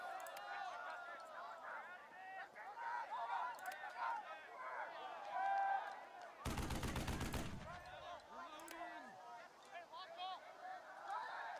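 Artillery and gunfire from the video game Burden of Command crackle in bursts beneath a spoken voice, with one loud sustained blast in the middle followed by a falling whistle.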